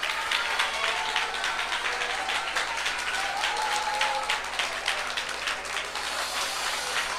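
A congregation at a Tamil Christian church service claps hands together, a dense sustained round of clapping that fills the room, steady and fairly loud throughout with no clear speech on top.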